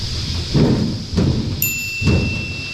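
A riveted panel is pulled off a milking robot, giving three dull thuds and knocks spaced about half a second apart, with a brief bright metallic ring between them.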